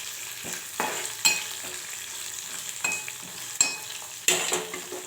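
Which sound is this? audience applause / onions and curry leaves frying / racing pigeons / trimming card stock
onions and curry leaves frying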